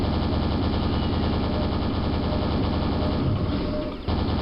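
In the Quake video game, a super nail gun fires in a fast, unbroken mechanical rattle, loud and close, for several seconds before a brief break and resumption.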